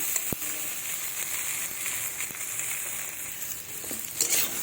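Fish curry masala for a rohu fish broth with black cumin tempering being sautéed in a pan, a soft, continuous sizzle with a few faint clicks of stirring.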